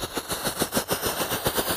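A Diwali 'camera' firecracker goes off in a rapid crackling burst of many small pops, loud and continuous, like machine-gun fire.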